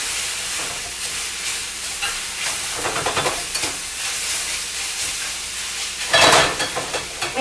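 Potatoes fry and char in a Saladmaster pan for breakfast burritos, a close, steady sizzle and hiss with scraping stirs throughout and a louder burst of spitting near the end.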